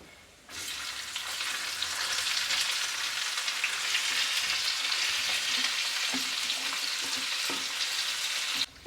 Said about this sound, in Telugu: ఆడేటప్పుడు చక్కగా ఉల్లిపాయ వేసుకున్నాం.